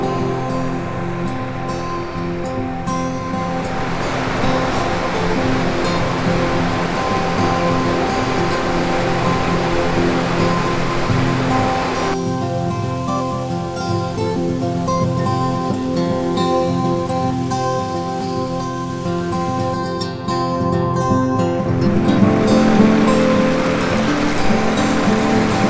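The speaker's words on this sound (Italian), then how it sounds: "In meno di 5 minuti abbiamo raggiunto una bellissima cascata, proprio all'inizio del sentiero." A beautiful waterfall right at the start of the Ta Lipa Pot trail near Stolvizza gives a steady, loud, broadband rush of falling water that holds unbroken for the whole stretch, with no voices over it.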